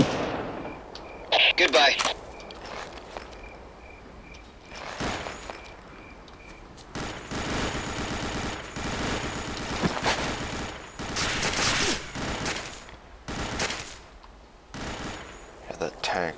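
Enemy gunfire and a tank rumble in the war game Ghost Recon, with repeated gunshot bursts and heavy booms scattered across the scene, loud at times and mixed under a voice.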